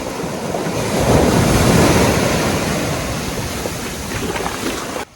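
Ocean surf crashes and rolls continuously onto a beach during shark fishing, a loud broad wash of breaking waves with wind buffeting the microphone, swelling then easing over several seconds.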